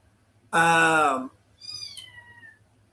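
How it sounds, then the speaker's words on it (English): Two meows from a litter of kittens indoors: a loud, close, drawn-out cry followed by a softer, higher mew, with quiet room hum between. "Sorry for the cats, guys. We got a litter of them in here."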